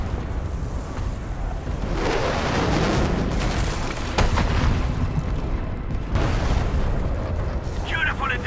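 Artillery strike explosions in the video game Arknights Endfield: rumbling booms and blasts layered into a sustained, loud roar, with sharp impacts standing out and a voice talking over them.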